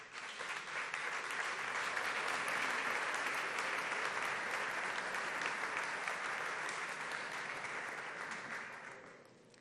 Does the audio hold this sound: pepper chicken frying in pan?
no